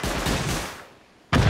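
Gunfire during a video game raid: a loud burst of shots fades over about a second, then a sharp, close blast of fire returns.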